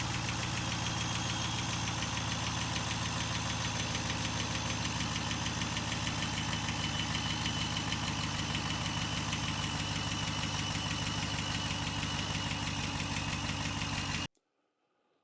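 A Jeep Wrangler JLU 392 engine idles with a harsh, rhythmic abnormal knocking running throughout, loud and close, then cuts off abruptly near the end.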